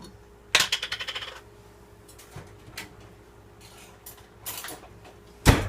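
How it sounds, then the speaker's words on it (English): A jar of pizza sauce being opened, with a rapid rattling series of small metallic clicks as the lid is worked, then a few quieter taps and a sharp loud snap near the end. "And I have a jar of pizza sauce. So we're going to go ahead and pop that open."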